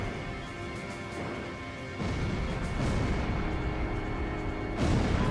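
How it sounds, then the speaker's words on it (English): Missile impacts and explosions in the combat flight game Ace Combat 5, heavy booming crashes over a constant rumble, with sharp louder hits at about two seconds and near five seconds. "All right, missile hit!"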